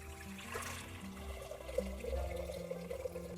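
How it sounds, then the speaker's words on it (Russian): Hot water pours and gurgles out of a jar of cucumbers, draining steadily with a trickling, sloshing sound over a low background hum. "Снова слить воду."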